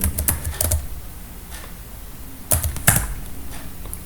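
Keys clack on a computer keyboard in two quick clusters of close, crisp taps separated by a brief pause.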